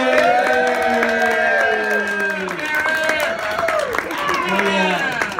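Audience claps and cheers for a performer's debut on a comedy or magic stage, the applause mixed under loud whooping and shouting voices throughout.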